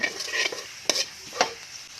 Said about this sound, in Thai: ตั้งน้ำมันให้ร้อนใส่กระเทียมเจียวค่ะ